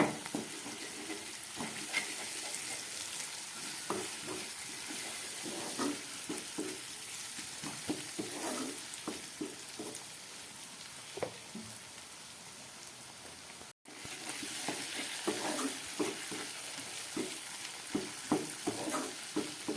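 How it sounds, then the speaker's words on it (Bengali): Crushed ginger and a couple of garlic cloves fry in oil for a spicy tangra fish curry, a continuous dense crackling sizzle like light rain with small pops throughout, broken by one brief cut. "আদা রসুনটা ভাজা হয়ে গেছে।"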